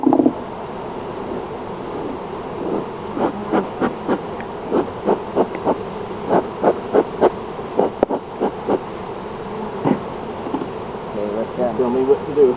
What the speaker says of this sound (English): But more bees, and they're making a lot of bees.